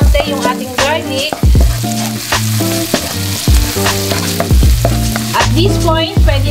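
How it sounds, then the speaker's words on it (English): Garlic toasts in hot oil in a pan, a loud continuous sizzle heard up close, with a melodic tune playing over it throughout. "Hayaan lang po natin na matoast ng konti yung ating garlic."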